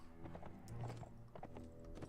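Horse hooves clip-clop on the ground in the medieval combat game Mount & Blade: Warband, a steady, close run of muffled thuds over a dense rumble of battle noise.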